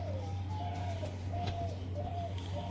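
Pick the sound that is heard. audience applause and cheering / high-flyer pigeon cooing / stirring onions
high-flyer pigeon cooing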